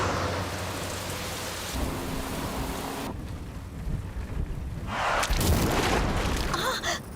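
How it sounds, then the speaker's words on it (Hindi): Heavy downpour with thunder rolling through a city street, a steady roar of rain broken by deep rumbles and a louder thunder crash near the end, with a vehicle's engine faintly underneath. "कितनी तेज बारिश है"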